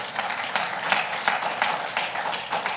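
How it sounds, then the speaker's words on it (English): A church congregation claps together during a Sunday service, a steady, moderately quiet wash of applause with rhythmic surges throughout. "Give him another clap offering"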